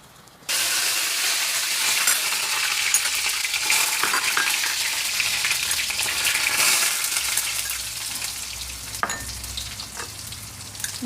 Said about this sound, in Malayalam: ഇനി നമുക്ക് കടുക് പൊട്ടി വരുമ്പോൾ വേപ്പില ഇടാം.